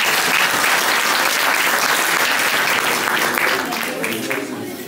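Sustained applause from a crowd at an outdoor folk horon dance event in Akçaabat as the mayor is invited on stage, dense and steady, fading slightly toward the end.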